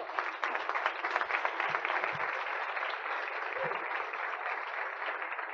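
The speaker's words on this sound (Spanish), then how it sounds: "Un aplauso para el Señor." A church congregation applauds the Lord, a dense sustained wash of clapping from many hands that holds steady for several seconds, moderately loud and filling the room, with a few faint low thumps underneath.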